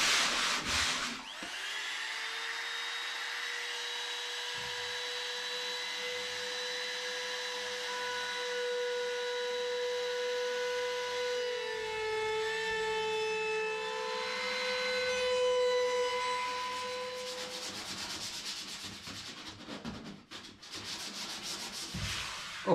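Router with a 4 mm radius rounding bit cutting the edge of plywood for a small boat, a high whining motor that spins up, holds a steady tone while cutting, then winds down, close and alone.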